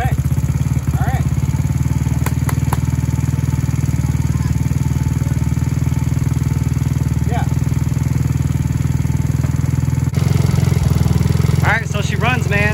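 Taotao Pony 50 scooter engine idling after a camshaft install, a loud close steady putter running throughout with a few clicks and clatters, and brief speech near the end.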